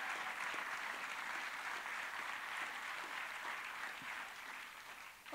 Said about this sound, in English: Round of applause, please, for Sally.